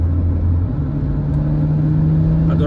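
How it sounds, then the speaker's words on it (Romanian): A Dacia Jogger Hybrid accelerates with its combustion engine kicking in, a loud, close, steady engine drone and rumble whose pitch steps up partway through. "A durat puțin până a intrat motorul termic, dar acum merge."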